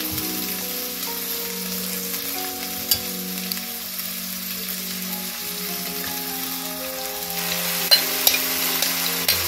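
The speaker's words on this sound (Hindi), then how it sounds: "तो इस तरह से अब हम इसमें बीफ ऐड कर रहे हैं सारे स्लाइसेस वन बाय वन" Slices of beef for a pasanday curry dropped into a hot pan, frying with a steady loud sizzle and occasional stirring clatter throughout.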